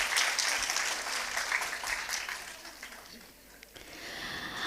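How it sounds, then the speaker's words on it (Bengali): Loud, sustained applause from an audience at a Bengali community gathering on stage, a dense wash of clapping that dips briefly near the end before swelling again. "এবং জোরে একটা করতালি।"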